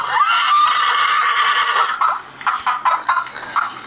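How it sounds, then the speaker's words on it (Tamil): A horse gives a long, loud whinny, followed by snorts and shorter calls, close by with some background bird noise. "குதிரை"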